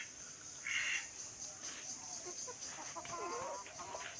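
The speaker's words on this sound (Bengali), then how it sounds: "এই কটা হলো দেশি মুরগি" Desi chickens on a small poultry farm, a few soft clucks and brief calls at a distance over low background noise, faint overall.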